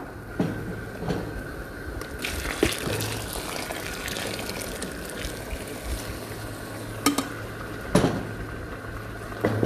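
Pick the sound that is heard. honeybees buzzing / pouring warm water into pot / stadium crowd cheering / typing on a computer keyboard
pouring warm water into pot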